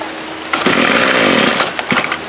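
After a short quiet moment, a string trimmer's small engine roars to life and runs loud and close, with a brief dip and surge in revs near the end.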